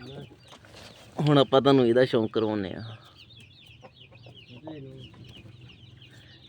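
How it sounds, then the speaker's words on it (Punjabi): Someone talks loudly for a couple of seconds near a flock of laying hens, whose clucks and chatter continue quietly underneath and after his voice. "ਇਹ ਮੁਰਗੀਆਂ ਅੰਡੇ ਦਿੰਦੀ ਪਈ ਆ"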